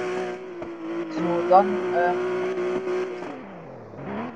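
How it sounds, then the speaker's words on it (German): Steady droning engine of a Porsche in the Roblox video game, held at a constant pitch and shifting slightly near the end, with someone speaking briefly over it. "hier ist mein Porsche. Der ist sehr laut."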